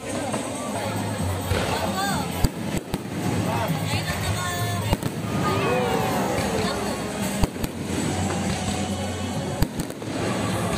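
Fireworks display bursting at the Enchanted Kingdom theme park in the evening, sharp booms and crackles popping every second or two over a steady crowd hubbub and nearby chatter.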